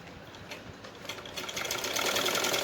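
Sewing machine stitching a seam through buckram, a steady whirring run that starts soft and builds louder and denser toward the end, with no voices.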